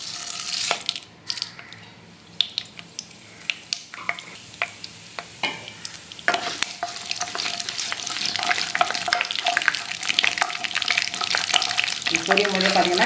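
Mustard seeds pop and crackle in a mix of cooking oil and sesame oil while tempering for lemon rice, with sharp scattered pops at first building into a dense, steady sizzle close up.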